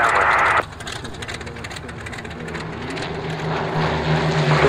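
Propeller aircraft engines at a grass airfield, two Messerschmitts and a Spitfire on final approach, giving a loud steady drone that dips after a brief louder opening burst and then holds, with a faint low hum beneath.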